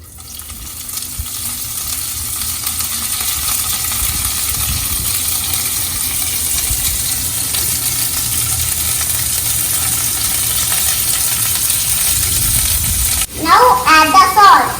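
Chopped microgreens with mustard seeds and chilies frying in hot oil, a loud continuous close sizzle that holds steady, then a short burst of stirring scrapes at the end.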